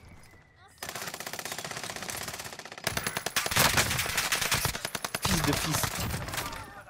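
Sustained automatic gunfire rattles in long rapid bursts in a French multiplayer shooter video game, loud and close, with a brief spoken word over it.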